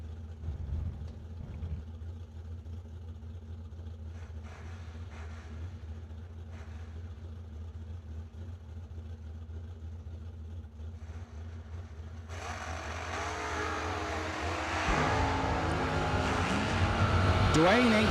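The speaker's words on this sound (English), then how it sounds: "First pair down the racetrack." Drag race cars, including a Kentucky Gears four-speed Mustang, run down a racetrack at a New Year Nationals event, a distant engine rumble that swells into a louder roar near the end beneath an announcer's running commentary.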